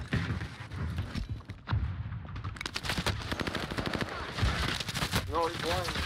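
Milano gun firing in Warzone, rapid automatic bursts rattling loud and close in quick sequences, with a player talking over the shooting.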